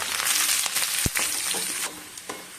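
Fenugreek, mustard seeds, sliced shallots, dried red chillies and curry leaves crackle in hot coconut oil, a steady close sizzle broken by sharp popping bursts and a few stirring knocks, with no voices.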